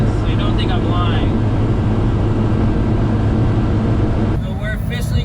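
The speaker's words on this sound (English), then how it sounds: "But the truck is screaming." A Daihatsu HiJet kei truck engine drones loud and steady under strain at highway speed, with road and wind rumble throughout and a person talking over it.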